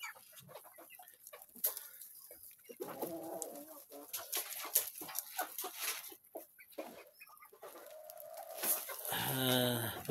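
Hens and roosters let loose outdoors cluck and call repeatedly at close to middle distance, in uneven bursts with brief quieter gaps, and more crowing and clucking build toward the end.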